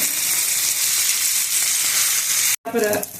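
Salted fish sizzles and crackles steadily in a hot pan as it is stirred, a loud continuous fry that cuts out abruptly near the end before a brief return of sizzling.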